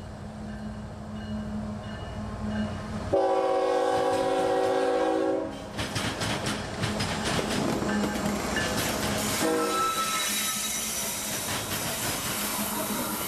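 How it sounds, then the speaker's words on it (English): Freight train B631 rounds the curve at Sandler Junction after sunset hauling 100 ethanol tank car loads bound for Tampa, with a loud locomotive horn blast, a rising rumble of engines and steady rolling clatter and squeal of wheels as the cars pass close. "About 30 minutes after sunset, B631 would round the curve at Sandler Junction with 100 ethanol loads for Tampa."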